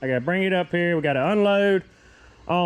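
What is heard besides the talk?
No everyday noises stand out.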